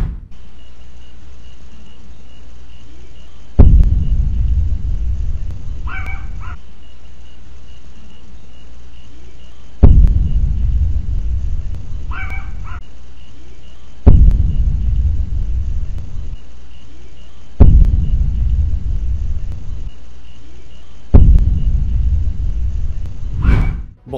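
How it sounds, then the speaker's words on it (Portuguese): A meteor explosion over Bahia, Brazil, caught by a security camera microphone: a deep booming rumble repeated five times, each sudden onset fading slowly under a faint steady cricket-like whine. "o que acabamos de ouvir é o que os pesquisadores chamam de Sonic Boom"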